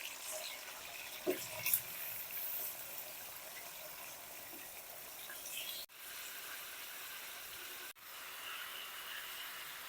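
Large mutton pieces fry in hot ghee in a cooking pot for Peshawari namkeen gosht, giving a soft, steady, even hiss of sizzling that stays quiet and continuous for the whole stretch.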